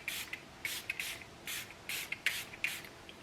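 A One Size Powder Melt makeup setting spray mists in a series of short, soft hissing bursts, about eight quick pumps in an uneven rhythm, close and quiet with no talking.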